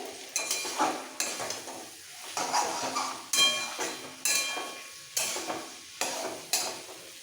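Vegetables sautéing in a pan with green chilli paste and a pinch of sugar for a rohu fish curry with drumsticks, stirred in repeated scraping bursts about once a second over a soft sizzle, close and fairly quiet.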